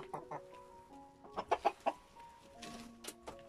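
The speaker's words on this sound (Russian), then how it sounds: "Вот тоже курочки замечательные." Orlov chintz hens give soft, faint clucks in a short irregular run, with a few sharper clucks in the middle against quiet farmyard background.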